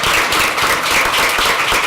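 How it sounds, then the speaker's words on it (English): Steady, dense applause from a conference crowd, a continuous wash of clapping that holds at an even level throughout. "Let's give him a round of applause."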